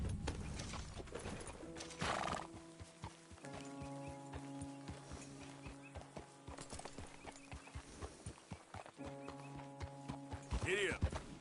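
A horse clip-clops at a steady rhythmic trot in the video game Red Dead Redemption 2, its hoofbeats close and fairly quiet. The horse whinnies briefly near the end, and a rider speaks over the hoofbeats.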